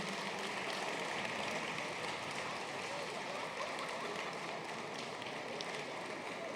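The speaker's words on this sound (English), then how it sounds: "a warm round of applause for our scholarship recipients" An audience at an alumni gala gives sustained applause, a dense, even wash of clapping from many hands that fills the hall steadily with no pauses.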